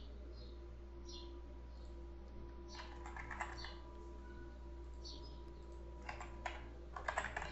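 Quiet typing on a computer keyboard, a few scattered keystrokes and then short bursts of tapping over a low steady hum, no voices.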